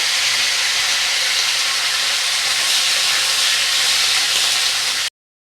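Potatoes and vegetables fry in hot oil, a loud, dense and unbroken hiss that runs close up for about five seconds and then stops abruptly.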